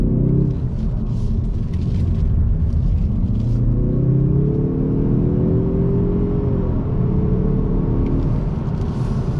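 A Subaru WRX with a six-speed transmission pulls hard on throttle, its engine note rising and dropping through a downshift, loud and close with a steady rumble throughout.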